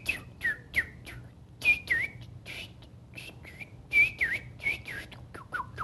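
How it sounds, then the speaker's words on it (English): Martin bird calls come as repeated chirps and whistled warbles in short bursts over about six seconds, moderately loud against a low background hum, with no talking. "Here's what martins sound like, folks."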